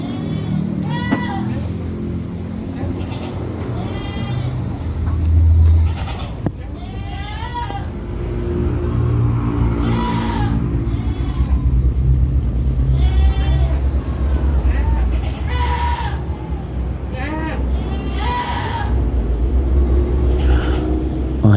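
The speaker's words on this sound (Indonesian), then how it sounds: "biarkan kambing ini makan terlebih dahulu" A pregnant Doro goat eating and bleating, repeated nearby bleats rising over a low rumbling background, mixed with soft chewing and rustling, while a person talks at times.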